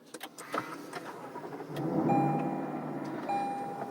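A 2020 Lexus LC500 V8 starting up, with a few clicks and a rising whir before the engine catches into a steady idle, accompanied by faint electronic chimes inside the car.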